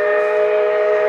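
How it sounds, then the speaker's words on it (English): A steam whistle sounds a steady, loud multi-tone chord, held unbroken and close for the whole moment, near a passing train on a Colorado bicycle tour route. "a lot of people have been doing steam whistle blows right before they pass me"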